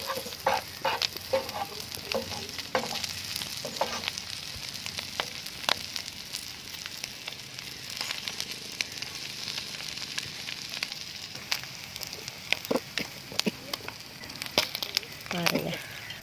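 Pieces of dried banana fish fry in a pan for a crispy pepper dry fish fry. A continuous sizzle is broken by frequent sharp crackles and pops as the pieces are turned one by one.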